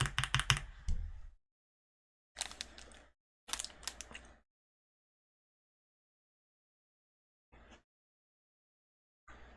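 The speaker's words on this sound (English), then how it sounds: "Keyboard thock is nice." Bursts of rapid typing on a computer keyboard with deep thocky keystrokes, several short clusters separated by silences, close and clear with no talk.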